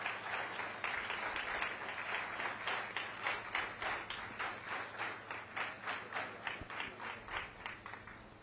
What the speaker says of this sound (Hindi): आप तालियों से स्वागत करें